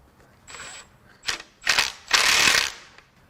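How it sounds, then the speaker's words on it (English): An impact wrench on a locking nut of a 1.9L TDI diesel engine from a Volkswagen Jetta, several loud close bursts of rattling hammering, growing longer with short pauses between. "I'm going to hit it with the impact, and we're going to just hope, really hope that I can get this out."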